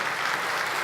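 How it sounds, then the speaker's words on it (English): Audience applause at a large technology keynote, a dense steady wash of clapping that holds at an even level across a very short moment with no break. "Now, applause."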